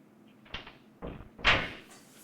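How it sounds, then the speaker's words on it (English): A door is handled in a few sharp bursts: a click and rattle, a thud, then a louder knock-like bang, close by in a quiet room with no talking. "Risho, open the door, please."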